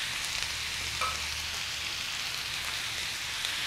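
Tomatoes fry in a hot pan on a tawa for a liver dish, producing a steady, moderately loud sizzle with a brief clink and no talking.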